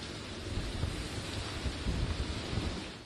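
Hurricane Laura, a Category 4 storm formed over the Atlantic, roars with heavy wind and rain in a dense, continuous rumbling wash that stays loud throughout, with no voices.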